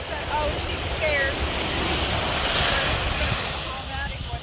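Ocean waves wash onto a beach in a continuous roaring rush of surf, with wind buffeting the microphone throughout.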